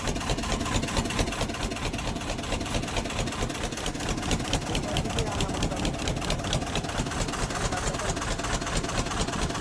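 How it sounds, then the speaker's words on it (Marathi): Fishing boat engine running steadily, loud and close, a continuous rhythmic chugging that fills the whole stretch without pause. "चालू बोट चालत आहे बघा"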